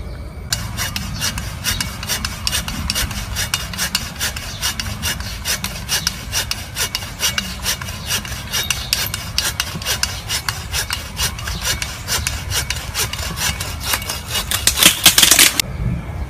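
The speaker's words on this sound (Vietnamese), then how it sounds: "Khi cưa các bạn cưa một đường xéo nha các bạn" A hand saw rasps steadily through a jackfruit tree trunk in fast, even back-and-forth strokes, cutting at an angle, growing harsher near the end.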